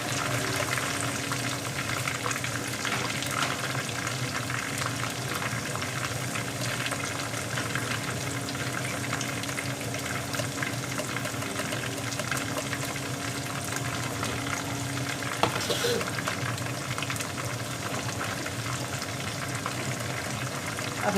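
Onion, garlic, ginger and green chilli paste sizzles in hot oil for a mixed sabzi of potato, peas and carrot, a steady, dense, close crackling hiss that holds evenly throughout with no voices.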